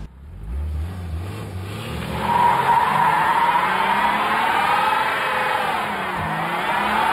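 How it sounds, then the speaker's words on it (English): A car with its brake booster deleted does a burnout: the engine builds up and holds high revs while the tires spin and skid in a loud, sustained screech lasting several seconds. "Burnout."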